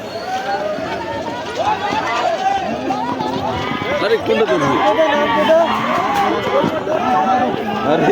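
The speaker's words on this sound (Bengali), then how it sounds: "প্রচুর ভিড় প্রচুর" A dense crowd packs a train station during Kali Puja in Malda, with loud overlapping chatter and shouting voices filling the space continuously.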